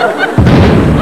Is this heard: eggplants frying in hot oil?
no